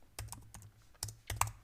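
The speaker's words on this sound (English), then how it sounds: "typing here whatever we want." Keys clack on a computer keyboard while someone types in the Vim editor, a few irregular close taps and short clusters over a quiet background.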